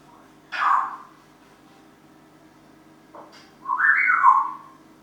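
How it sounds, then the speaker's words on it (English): Pet birds indoors give two bright whistling calls, a short one early and a longer warbling one near the end, fairly faint against a quiet room. "Let me just go and sort my birds out because they are very noisy."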